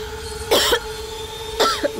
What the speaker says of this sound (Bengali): নিজের অবস্থা দেখো, কি কাশি হচ্ছে তোমার।